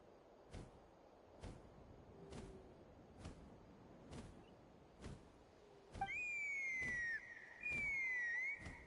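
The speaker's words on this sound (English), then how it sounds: "That sounded like a whistle." A whistle in the video game Genshin Impact, set in Natlan: steady, evenly spaced soft thuds give way to two long, bright whistled tones that slide and warble near the end.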